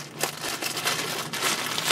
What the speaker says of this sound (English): I hate when they use packing tape on plastic bags.